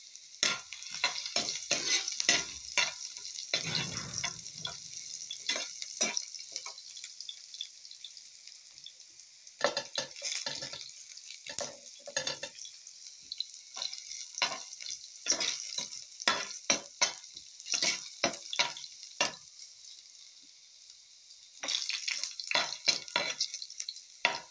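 Fried rice sizzling in a hot pan while a spatula stirs and scrapes it, a steady close frying hiss broken by repeated sharp scraping strokes, with a brief quieter stretch before the sizzle swells again.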